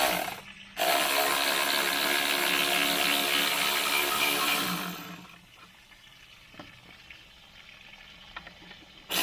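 Water draining out of a swimming pool cartridge filter: a loud steady rushing gush for about five seconds that abruptly drops to a quiet trickle with small knocks and handling noises.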